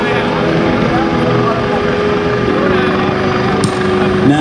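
A rescue helicopter hovers while hoisting a rescue swimmer and dummy at the Seafair air show in Seattle, its rotor drone loud and continuous as a voice talks over it.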